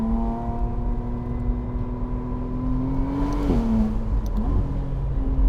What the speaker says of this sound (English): Now we're just gonna get a feel for how this new McLaren Artura Spider drives.